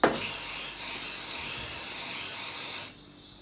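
A close, steady hiss of a cooking oil aerosol spray lasts almost three seconds, then cuts off abruptly, leaving quiet room tone.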